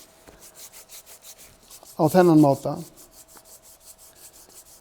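A plane iron and chisel are rubbed on sandpaper in a steady, repetitive rasping rhythm, close and fairly quiet, while someone speaks briefly over the strokes.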